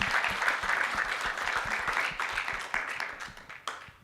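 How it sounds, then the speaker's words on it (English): An audience applauds at an alumni event, steady clapping from many hands filling the room for about four seconds, with a few louder individual claps near the end as it tapers. "Please give them all a round of applause."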